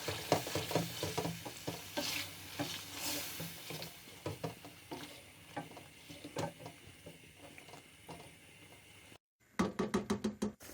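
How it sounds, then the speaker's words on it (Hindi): A spoon scrapes and knocks repeatedly through chicken karahi after yogurt is added, a soft sizzle underneath, then a brief pause before a quick burst of sharper clatters at the end. "दही डालने के बाद हम इसको अच्छे तरीके से मिक्स करेंगे।"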